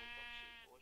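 A single sheep bleats in a video game, a brief, wavering, nasal call heard alone and fairly clear.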